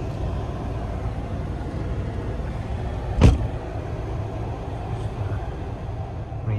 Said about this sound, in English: you can probably hear the burble